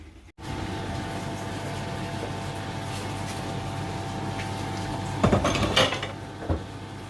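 A lid goes onto a pot of simmering pork sinigang over steady stovetop hiss, then a cluster of sharp metallic clatters and a final knock ring out near the end.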